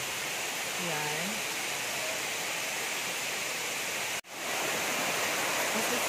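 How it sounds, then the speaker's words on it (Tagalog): Steady broadband rush of a waterfall at a crowded falls, constant and loud throughout, with a brief voice near the start and a short dropout near the end. "At yun yung falls nila. This is the falls."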